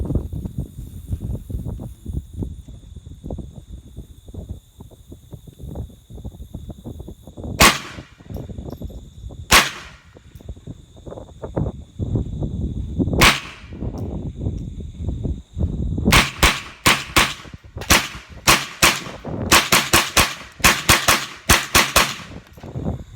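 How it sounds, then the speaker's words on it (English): A Hammerli Tac R1 .22 rifle fires outdoors. Sharp, loud cracks come first as a few spaced single shots, then as a rapid string of closely spaced shots, heard near over a rumbling background. "Pull this back and we'll do a couple shots."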